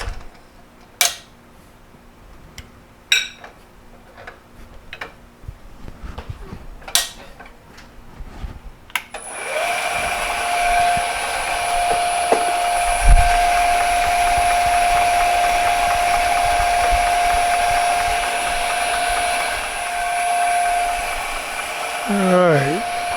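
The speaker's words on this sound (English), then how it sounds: "now we're going to enlarge these holes to 1/2 inch." A drill bores out holes to 1/2 inch in a shop-made bandsaw belt guard: scattered clanks and taps of setup first, then a loud, steady whining drill run lasting over ten seconds before it winds down.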